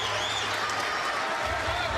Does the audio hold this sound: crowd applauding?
yes